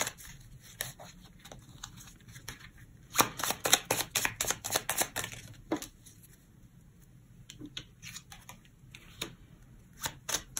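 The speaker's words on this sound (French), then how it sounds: "On va prendre encore une autre carte." Tarot-style cards are shuffled and drawn for a reading, with a dense flurry of crisp riffling and snapping near the start, followed by scattered softer flicks and taps, close and fairly quiet.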